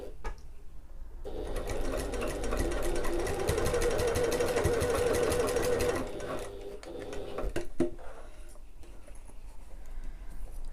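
A sewing machine bastes rings into place within a seam allowance, its rapid, even needle stitching running close and steady for several seconds, then slowing into a few short bursts and clicks.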